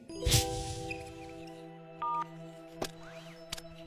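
A phone number is dialed on a keypad in a cartoon scene, a few distinct beeping tones under a steady electronic hum, with short clicks between them.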